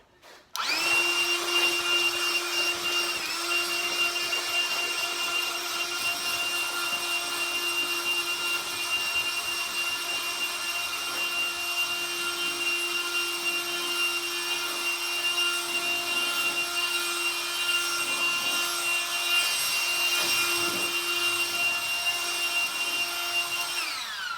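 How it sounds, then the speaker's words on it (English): A Ryobi blower running steadily to clear loose sand off a wooden ramp, a loud continuous whine and rush of air starting abruptly and holding nearly constant for over twenty seconds, close to the listener. "I'm going to take my Ryobi blower here"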